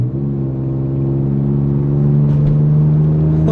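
Mitsubishi 3000GT, fitted with a Quaife differential and rebuilt transmission, heard from inside as a loud steady engine drone that rises slightly in pitch while it pulls away and accelerates.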